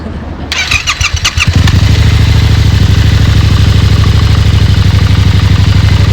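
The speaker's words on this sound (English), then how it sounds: "we'll do a cold start for you here real quick, just so you can hear what the bike sounds like" A 2022 Yamaha R7 60th Anniversary Edition motorcycle engine cold-starts with a few rapid clattering turns, catches, then settles into a loud, steady, throbbing idle close by.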